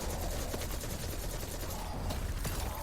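Rapid turret gunfire in the video game Destiny 2 rattles on continuously as a dense, close burst of shots with no talking.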